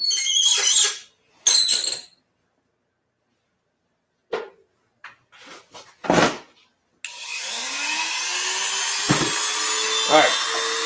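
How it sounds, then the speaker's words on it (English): Dremel rotary tool working on a briar pipe, with a few short scraping and tapping bursts and then a sustained whine of the spinning tool that holds steady for several seconds. "It's time for Dremel time."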